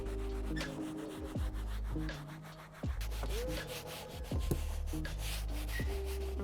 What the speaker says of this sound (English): I'm just going to go back round with another brush now it's had a little while to sit.